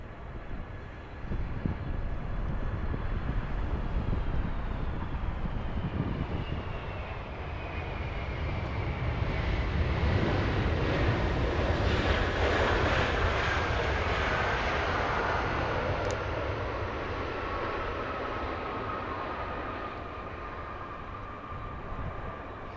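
A Delta Air Lines Boeing 757 arriving on the south side at Los Angeles International Airport produces a long, steady jet roar that swells and then slowly fades, heard alone from a distance.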